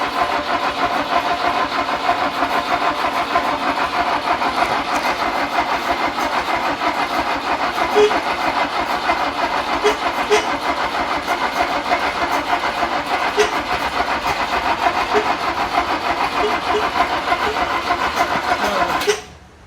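A Lada Riva car engine, fighting a fuel pump problem, runs with a steady, loud mechanical drone and faint rhythmic ticking throughout, cutting off abruptly at the end, with no talking.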